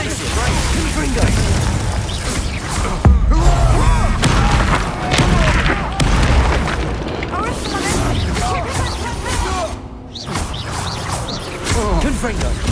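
Repeated booming explosions from Confringo spells in the video game Hogwarts Legacy, loud and dense with thuds and crackling bursts over a rumbling game soundtrack, while a voice talks and calls out over the action.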